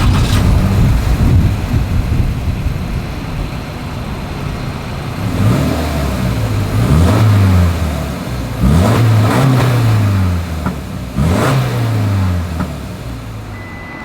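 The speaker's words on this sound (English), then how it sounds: "As always, here is that exhaust clip." A 2025 Subaru Crosstrek's exhaust idles steadily, then revs up three or four times in rising and falling sweeps, fairly close and loud, with no talking.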